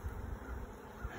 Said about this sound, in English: look at all those bees